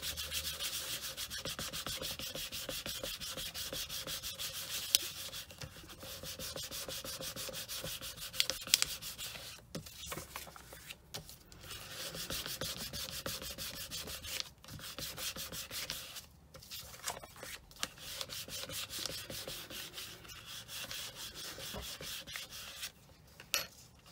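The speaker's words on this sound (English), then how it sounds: "Just going to give it a good burnish front and back." A polymer clay pendant is burnished by hand, front and back, with repeated soft rubbing strokes in uneven bursts and brief pauses, close and quiet.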